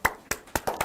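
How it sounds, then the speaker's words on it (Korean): A few separate hand claps from an audience thanking a lecturer at a university presidents' session, four or five sharp claps in under a second, fairly close. "우은택 원장님께 박수로 감사함을 표해 주시기 바랍니다"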